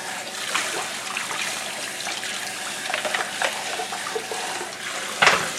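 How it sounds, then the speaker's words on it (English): Water rinsing through a slow juicer body, with a brush used to clear out trapped pulp: a steady broadband splashing and trickling runs throughout, ending in a brief louder splash. "we're just going to go ahead and run water through it, rinse it out very fast"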